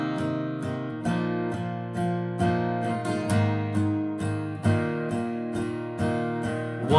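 An acoustic guitar strums a chord progression in a steady 4/4 rhythm, with evenly spaced down strums and chord changes, close and clear with no voice.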